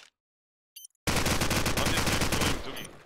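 Automatic gunfire in the video game Call of Duty 4 during a competitive match: after a short silence and a faint click, a loud, rapid, continuous burst of shots rattles on for about a second and a half before tapering off.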